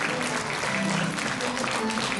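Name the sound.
audience applause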